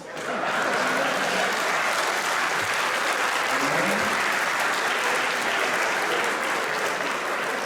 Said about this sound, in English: If you clap for me, it will be short.